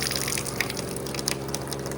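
A water faucet's cooling mechanism running below the sink to chill water for a cup gives a steady, loud gushing and humming rush with a low pump-like drone, constant throughout and close by.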